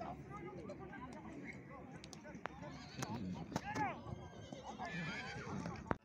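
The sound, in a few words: horses at a horseback race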